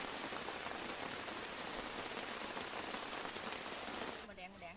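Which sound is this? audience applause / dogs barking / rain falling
rain falling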